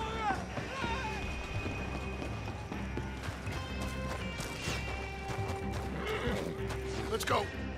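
Coach horses in Red Dead Redemption 2 whinny loudly several times over clattering hoofbeats and crashing impacts during a chaotic fight. Voices talk and shout over the din.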